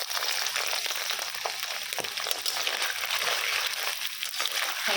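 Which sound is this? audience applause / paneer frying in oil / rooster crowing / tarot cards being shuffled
paneer frying in oil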